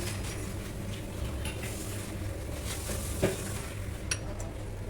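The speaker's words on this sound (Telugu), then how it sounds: "నెయ్యి వేసుకొని ఒకసారి ఈ పాలకులన్నీ మనం నెయ్యిలో వేయించుకోవాలి" Cashews, raisins and other dried fruit fry in ghee in a pan with a steady close sizzle. A few light stirring scrapes and small clinks cut through it, and there is no talking.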